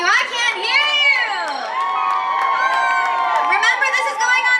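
A large crowd of children screams and cheers continuously, high shrill voices overlapping loudly throughout with occasional whoops.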